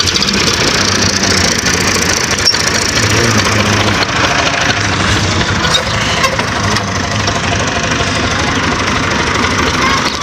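A tractor engine idles while hitched to a trolley, a loud continuous rough diesel chug with knocking texture, close by and steady throughout.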